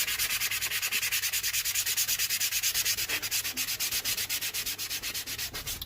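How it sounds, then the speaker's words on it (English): A sanding pad is rubbed in quick, steady back-and-forth strokes around the welt groove of leather boots, a close, rhythmic scratchy rasp with no talking. "Also take a sanding pad and just lightly sand around the groove."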